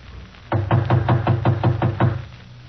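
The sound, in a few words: knocking on an apartment door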